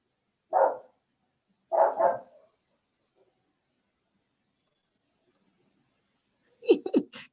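A dog barks in short bursts, two separate barks early on and then a quick cluster of sharper barks near the end, with quiet gaps between them and no talk over the sound.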